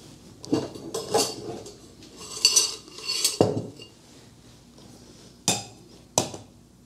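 Celery and other Trinity vegetables are handled in a kitchen, giving several sharp knocks and clinks of a knife, board and utensils, spaced irregularly with quiet gaps between them.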